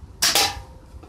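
Two quick, sharp snaps from an HFC HA 118EL airsoft BB gun ring out close together, crisp and close, followed by quiet.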